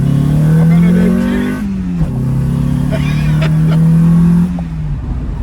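An MG sports car accelerates on a drive, its engine revving loudly from the cabin through climbing gears with a short shift break, as a voice speaks in between.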